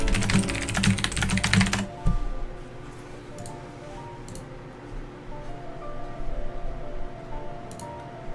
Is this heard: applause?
no